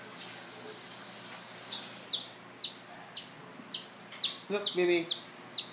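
Chickens give a series of short, repeated clucks and calls that grow louder and busier toward the end, over a faint background hiss, while a person speaks briefly nearby.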